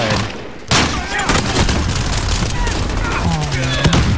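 Rapid bursts of JAK-12 shotgun fire in a video game, loud and repeated close together over dense game action, with a voice speaking in between.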